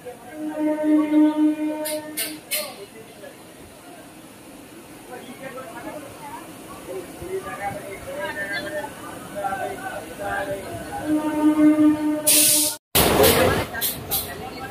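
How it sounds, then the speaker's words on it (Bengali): A local train pulls out of Panskura station, a steady rumble with hissing and rattling throughout, and sharp horn-like tones near the start and end. A loud burst and a brief dropout come just before the finish, with station chatter in the background. "আমাদের ট্রেন"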